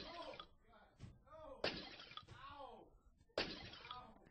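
Glass shattering used as the sound effect for a seal in a video game, two sharp crashes with trailing tinkling debris, heard amid people talking.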